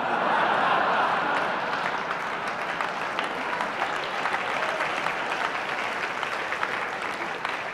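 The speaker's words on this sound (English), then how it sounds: "That's what's needed to get applause" A conference audience applauds steadily, a dense wash of clapping that peaks at the start and slowly eases off.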